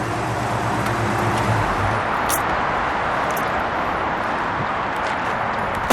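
A 1969 Mercury Cougar XR7 with a 351 V8 idles loud and close with a steady low rumble, then the engine note drops away as it is shut off, leaving a broad mechanical wash.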